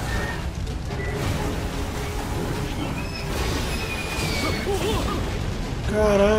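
Loud grinding, rumbling destruction with metallic screeches and booming crashes as a ship is blasted apart in the video game Toukiden 2, building to a harsh burst at the end.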